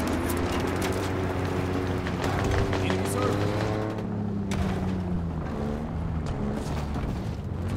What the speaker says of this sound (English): Ground vehicle en route.